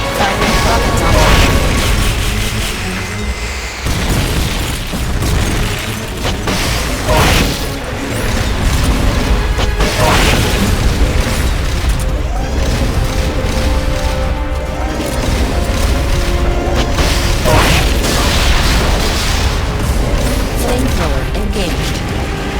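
Rocket launcher fire and explosions in the Metal Gear Solid Peace Walker video game: continuous loud, dense combat with repeated booms, crashes and mechanical clatter throughout, with some voice mixed in underneath.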